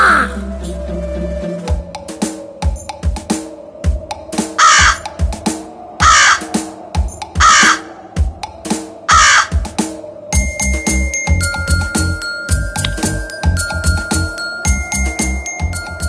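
A cartoon crow in an animated fable caws in loud, regular repeated calls about once a second, joined later by bright chiming bell tones and plinking sounds, with no speech.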